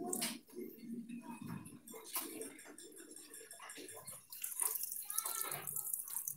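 Water splashes and trickles as a bird is rinsed to remove lice, soft intermittent pouring and dripping heard close, with someone speaking quietly over it.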